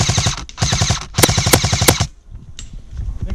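Airsoft light machine guns laying down covering fire at a fuel depot on an outdoor field, loud rapid bursts of close automatic fire in quick succession, then a short pause and a fainter pop.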